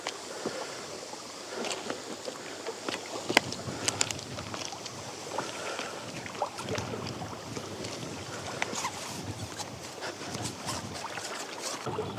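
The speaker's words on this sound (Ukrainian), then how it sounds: "шалений сьогодні шаленючий вітер" Strong November wind buffets the microphone in constant gusty rumbles on a riverbank during spin fishing, with faint scattered knocks and clicks throughout.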